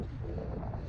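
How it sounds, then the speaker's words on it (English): Steady low rumbling wind buffeting a microphone at an outdoor model plane flight, a dense continuous roar with no voices. "it's a little windy"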